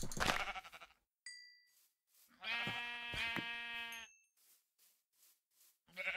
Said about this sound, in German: Aber es gibt einfach so viele Schafe hier, ne?